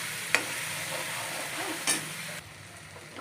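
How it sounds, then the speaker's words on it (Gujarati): Cumin, asafoetida and ginger-chili-garlic paste sizzle softly in hot oil, with two brief clinks of a spoon against the pan as it is stirred. "તેલ ગરમ થઈ ગયું છે, તો એમાં જીરું, હિંગ અને આદુ મરચાં લસણની પેસ્ટ બરાબર સાતળી લઈએ."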